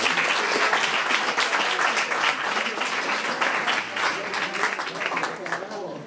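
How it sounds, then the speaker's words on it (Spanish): An audience at a school Erasmus ceremony breaks into dense, sustained applause that stays loud and even throughout. "Bienvenidos, un aplauso."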